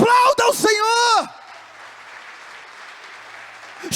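A Portuguese-speaking church congregation applauding, heard as soft, diffuse clapping after a brief burst of a voice at the start.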